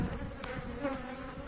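Honeybees hum continuously around an open hive, a dense close swarm drone with no voices.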